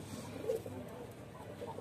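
Several pigeons coo softly together, a low murmuring burble that rises briefly then continues steadily at moderate distance, with faint rustling and shuffling underneath.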